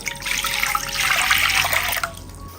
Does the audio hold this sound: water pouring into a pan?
yes